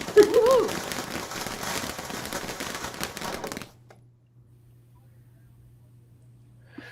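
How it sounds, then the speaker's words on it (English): Fireworks crackle and pop in a dense, continuous burst for about three and a half seconds during an early-morning live stream, with a brief voice near the start, then cut off abruptly to near silence. "We got fireworks."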